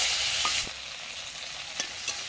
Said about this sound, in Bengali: পাঁচফোড়নটা একটু ভাজা ভাজা হয়ে গেলে আমি কুচনো টমেটো আর কাঁচা লঙ্কা দিয়ে দিচ্ছি।